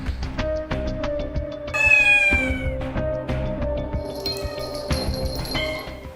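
Pet cats meowing repeatedly and close, with a sharp, wavering cry in the middle, several overlapping calls and a light clinking sound.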